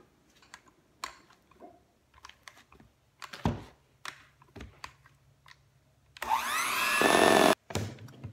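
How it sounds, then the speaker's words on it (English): An electric hand mixer whirs loudly for about a second and a half while mixing dessert batter, after scattered clicks and knocks from kitchen preparation. "I'm just gonna use my hand mixer and mix it all together."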